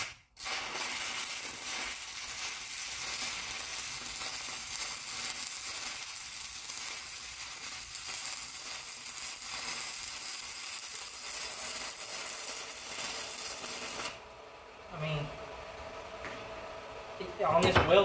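Steady, loud crackling hiss of a stick weld run with a 6010 5P rod on a small inverter welder, continuing unbroken for about fourteen seconds before the arc stops and a short voice is heard.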